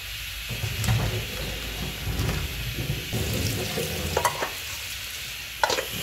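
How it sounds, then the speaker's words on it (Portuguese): Boiled dried beef, carne seca, frying in a pan, a loud continuous sizzle close up with occasional stirring scrapes and a few sharper pops and clinks, no speech. "Agora eu vou fritar essa carne seca que eu fervi."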